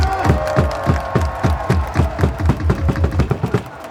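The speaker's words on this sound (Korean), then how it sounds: "힘찬 박수와 함성을 부탁드립니다" A baseball stadium crowd claps in fast, steady rhythmic unison while cheering for the team captain, the close claps landing evenly and loudly over a background of voices.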